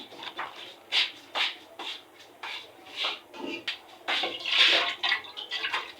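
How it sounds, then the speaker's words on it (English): Food being washed a second time in a pot of water in an African village kitchen, rhythmic splashing and swishing pulses of water, fairly close and soft, repeating steadily. "Wash it for the second time"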